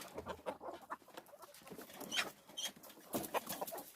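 Backyard homestead chickens and a rooster clucking and chattering nearby in short, irregular bursts, with some louder squawks toward the end and no talking.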